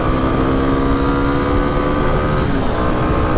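A 2006 Kawasaki KLX250 dirt bike engine revs high and loud, held steady near nine thousand rpm with a constant buzzing whine close to the microphone and no talking.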